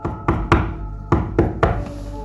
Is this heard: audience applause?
no